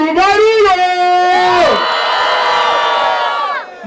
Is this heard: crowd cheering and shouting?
yes